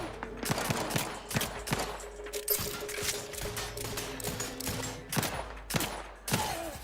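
Repeated gunshots in the game Outer Worlds 2, a series of sharp cracks in quick succession with mechanical clicks and rattles between them, fairly quiet overall and with no talking.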